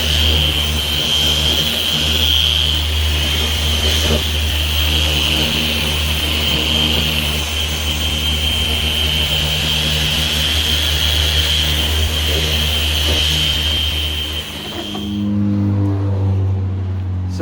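A Bauer random orbit buffer polishes a car with a steady, loud motor whine and hum that runs nonstop for about fifteen seconds before it winds down and stops.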